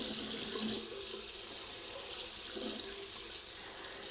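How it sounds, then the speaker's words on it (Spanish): Lukewarm tap water runs in a steady, gentle stream to bathe a ferret, a soft continuous splash with slight changes in flow. "Le vamos a poner el agüita así templadita y con poca cantidad."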